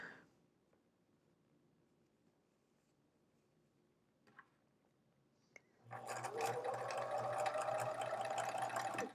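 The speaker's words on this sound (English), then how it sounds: "So this is my last square to sew on." After several seconds of quiet with faint handling noises, a sewing machine starts up and runs steadily, stitching a square of quilting fabric.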